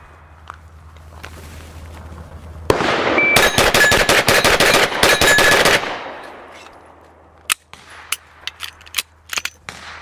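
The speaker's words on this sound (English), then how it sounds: "I'm gonna finish this whole mag and see if we can still stay consistently around that 15" A Glock pistol fitted with a Timney Alpha trigger fires a full magazine in a fast, steady string of about a dozen loud, sharp shots, followed by scattered clicks and handling noises.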